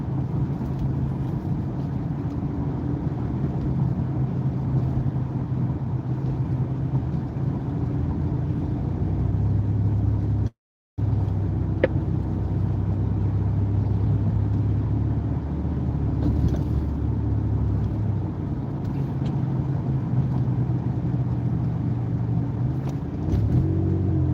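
A car cruises steadily past a school zone, its engine a low continuous hum with road rumble heard from inside the cabin, unbroken except for one brief dropout partway through.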